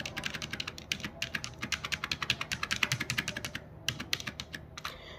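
Computer keyboard keys pressed while working in MS Word, a quick run of close, crisp clicks with brief pauses, ending in a short flurry of taps.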